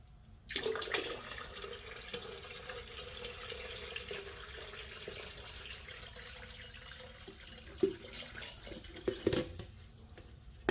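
Water pours steadily from a hose or tap into a backyard pool being filled, a continuous faint rushing splash with a couple of brief louder knocks and clatters near the end.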